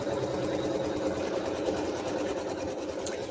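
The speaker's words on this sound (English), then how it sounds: "It's going to sew that placement stitch for our felt." A home embroidery sewing machine sews a placement stitch on felt, a steady fast mechanical whir with even needle clatter and constant close-up loudness, running continuously with no speech.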